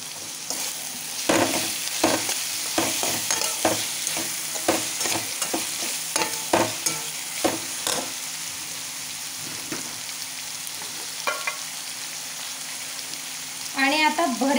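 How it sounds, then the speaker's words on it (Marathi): Onions frying in a pan with peanuts and salt for a brinjal bharit: a steady close sizzle under repeated sharp spatula scrapes and clacks, thinning out mid-way before a final burst of stirring. "थोडं 2-4 मिनटं कांदा ट्रान्सपरंट होईपर्यंत शिजवायचा"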